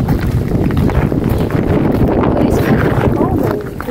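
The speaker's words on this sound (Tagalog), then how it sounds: "Ang lakas na naman ang hangin." Strong, steady wind roars outdoors in broadband gusts on a blustery day near a river bridge, with a voice talking over it.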